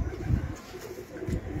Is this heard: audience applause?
no